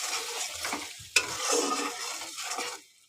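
Onion and tomato paste fry with cumin seeds in hot oil in a pan, giving a close, steady sizzle broken by soft stirring scrapes and one sharp utensil tap midway.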